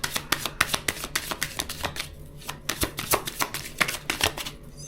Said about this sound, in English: give it a better shuffle.